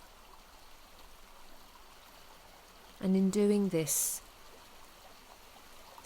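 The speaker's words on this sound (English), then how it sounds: "begin to pour the water from the jug" Water poured from a jug back into a pool makes a soft, continuous trickle that runs throughout, with a person briefly speaking over it midway.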